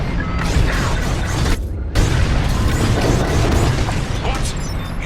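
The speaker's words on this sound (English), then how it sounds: "On my mark, it's bombs away." Bombs exploding in the Star Wars: Squadrons space combat game, a loud continuous barrage of booming blasts and crackling bursts with a brief drop in the middle, and voices heard faintly in the mix.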